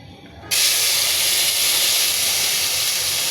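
Paste of onion, garlic and ginger hitting a hot pan in a home kitchen, bursting into a loud, steady sizzle that stays continuous and close once it starts.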